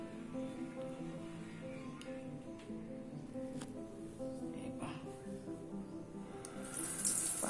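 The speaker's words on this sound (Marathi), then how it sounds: "पाणी भरायचं आहे." A kitchen tap runs steadily as containers are filled with water, a continuous close wash of flow with faint clinks, growing a little louder near the end, with no speech.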